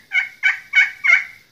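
Four soft, evenly spaced yelps from a turkey call imitating a hen's tree yelps, close and clear with nothing else around.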